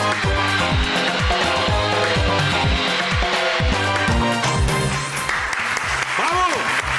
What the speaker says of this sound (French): allez, on les applaudit très fort.